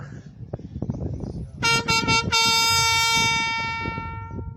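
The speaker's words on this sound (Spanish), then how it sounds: "Tocamos la trompeta." A trumpet blasts to call soldiers together during a Spanish-language sermon: a few short, sharp toots followed by a long, loud, sustained brassy tone that slowly fades, over faint background noise.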